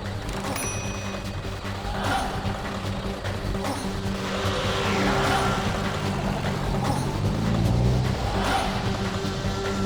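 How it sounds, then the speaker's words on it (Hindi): A car reverses and swings around in a tense, horror-drama chase scene. A loud engine roars continuously with tire noise and rising revs, close and dense throughout. "रिवर्स गाड़ी घुमाओ।"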